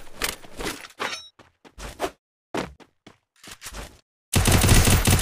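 Gunfire and a headshot in a mobile shooter video game: loud bursts of rapid shots broken by short silent gaps, ending in a sustained dense volley of automatic fire, with no talking.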